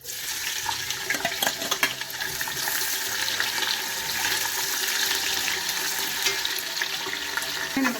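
Onions fry in oil in a stainless steel biryani pot, giving a steady hissing sizzle with a rushing, watery texture and a few small clinks, running evenly throughout.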